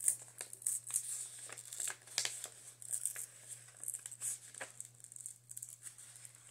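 A paper envelope being slowly peeled open by hand, with quiet irregular crinkles, small tearing rips and soft taps, close and faint over a low steady hum.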